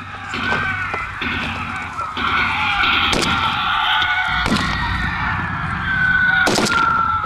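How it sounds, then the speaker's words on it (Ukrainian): Several sharp, loud explosions strike at irregular intervals over a constant droning rumble of aircraft at a military training ground. "На полігоні все як під час бойових дій. Свисткулі, гуркіти літаків постійно лунають вибухи та крики."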